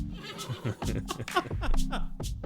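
Horse whinny sound effect in a tabletop fantasy role-play session, a shrill neigh rising over layered voices and faint hoof clip-clop, close and fairly loud throughout the short stretch.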